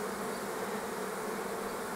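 Honeybees swarm around a hive in a steady, dense drone, close and continuous, with no pauses and no voices.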